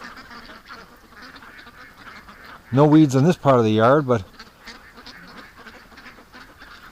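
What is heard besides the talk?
ducks quacking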